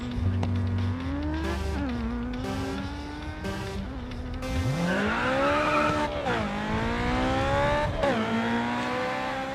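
A high-powered rear-wheel-drive car, such as a fifth-generation Mustang, drifts through a drift event in the racing game Grid 2, with the engine rising and falling in loud sweeping pitches and tyres squealing continuously through the slides.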